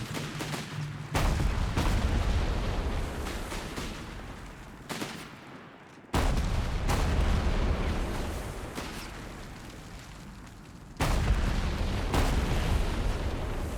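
A gun emplacement with two guns firing on infantry in a war strategy video game, producing heavy booming blasts at intervals, each followed by a long rumbling roar of explosions and scattered fire, no speech.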